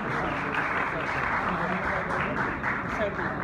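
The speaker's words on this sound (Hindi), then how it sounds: "और पुरजोर तालियां होनी चाहिए।" Audience applause at a Governor House ceremony honoring an Olympic gold medalist: a steady, dense wash of crowd clapping, even and sustained throughout, with faint voices mixed in.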